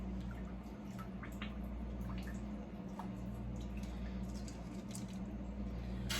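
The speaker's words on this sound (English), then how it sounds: "And it is dripping into that pan." Chicken broth drips into a pan in faint, scattered drops over a steady low background hum, irregular and soft throughout.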